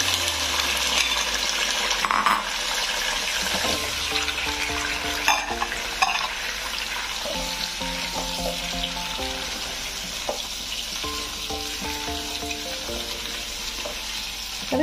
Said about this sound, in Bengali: তেলটা গরম হয়ে গেছে, প্রথমে কুমড়োটা ভেজে নেব।